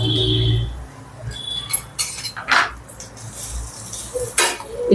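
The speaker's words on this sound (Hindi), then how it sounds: "इस तरह से हमें इसको मिक्स करना है।" Mashed potato being mixed with powdered spices in a bowl for stuffed rava idli, a few scattered clinks and scrapes of a spoon against the dish with soft rustling between, close and intermittent.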